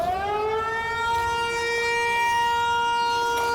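Siren Head's wail in a Minecraft horror survival game: a single sustained, loud siren tone that rises at the start and then holds steady and droning for several seconds, with no voices.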